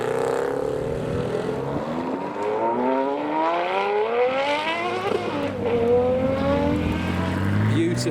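Modified cars pull away from a car show, engines revving and climbing through gears in rising sweeps, loud and close, with a voice speaking over them partway through.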